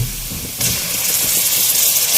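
Garlic ginger paste hitting browned fried onions in a pan, a sudden loud burst of hissing sizzle that jumps up partway through and stays strong and steady, no voices.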